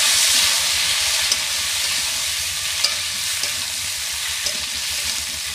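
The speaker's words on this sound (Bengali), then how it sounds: "তেল গরম হয়ে গেছে, এবার ফোড়ন দিয়ে দিচ্ছি, কাঁচা লঙ্কা, পেঁয়াজ, কলা আলুগুলো দিয়ে দিচ্ছি," Green chillies, onion and potatoes dropped into hot oil with tempering spices for a fish curry produce a loud, steady hissing sizzle throughout, with a few faint stirring clicks and no talking.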